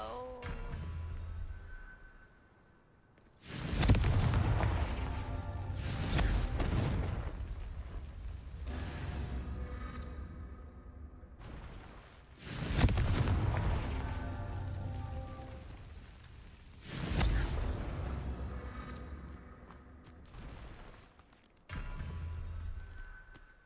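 Repeated Confringo blasting-spell explosions in the video game Hogwarts Legacy, three loud broadband bursts spaced several seconds apart, each followed by a crackling, rumbling decay.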